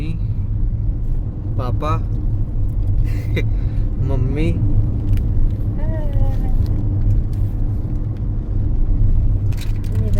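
A car on a road trip toward a tiger reserve in India rumbles steadily from inside the cabin, a constant low engine and road drone while people talk over it.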